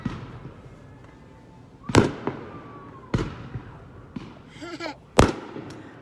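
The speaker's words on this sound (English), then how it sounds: "We are watching the fireworks from our sunroof in our vehicle." New Year's Eve fireworks in St. Albans, Vermont, heard from inside a vehicle through an open sunroof: several sharp, loud bangs and crackling bursts at irregular intervals over a low background hum.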